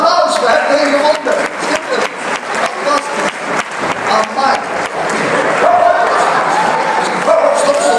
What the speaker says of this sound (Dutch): dames en heren, geef ze een applaus